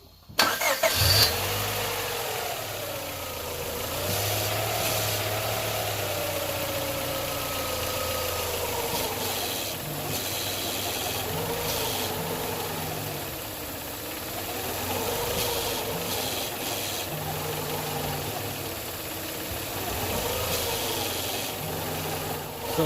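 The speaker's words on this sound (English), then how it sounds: "I'm gonna start the engine and turn the steering left and right" A Honda Prelude with an oil leak cranks, catches and settles into a steady idle up close, and its tone wavers in slow swells as the steering is turned left and right.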